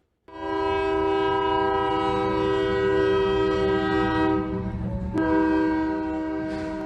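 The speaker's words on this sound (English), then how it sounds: "A train collided with an RV in Claremore." A train blares its horn loud and sustained while bearing down on an RV stalled on the tracks at Lynn Riggs Boulevard and 9th Street in Claremore, with a sharp impact late in the horn blast.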